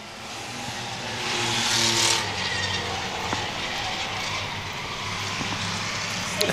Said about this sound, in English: Five laps to go for Michael Ramsey.